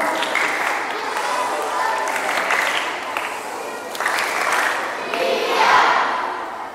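A large group of children at a Catholic faith camp in Palasari, Denpasar, clap and chant a call-and-response clapping routine together, rhythmic bursts of claps mixed with loud shouted voices in a reverberant hall.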